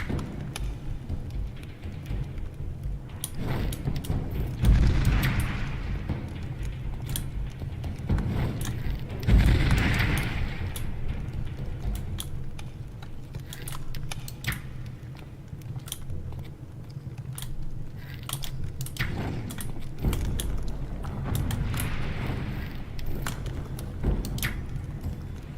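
Crossbow bolts fired and reloaded in the video game Risen: a handful of sharp mechanical clacks and thumps spaced several seconds apart over a steady low game backdrop, with no talking.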